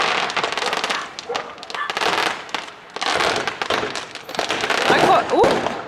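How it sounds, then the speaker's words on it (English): Fireworks go off in a neighbourhood on a Halloween-week Friday night, a series of loud crackling bursts in clusters with dogs barking nearby and a voice speaking between the bangs. "I quite like fireworks, to be honest with you,"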